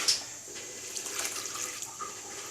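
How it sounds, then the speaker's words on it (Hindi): Half a glass of water is poured into minced meat keema seasoned with turmeric and salt in a pressure cooker, giving a short, steady splashing pour up close. "और अब इसमें हम थोड़ा सा पानी भी ऐड करेंगे ताकि कीमा हमारा अच्छे तरीके से गल जाए।"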